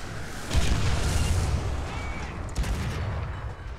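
A tank shell bounces off armor in War Thunder, close to an M18 Hellcat: a dull heavy boom followed by a sustained rumbling roar of battle noise.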